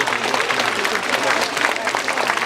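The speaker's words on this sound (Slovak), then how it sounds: "Veliký potlesk pro našich partnerov" Audience applause for the partners of a Rusyn folk festival, a dense, steady patter of many hands clapping throughout at moderate loudness, with no voices over it.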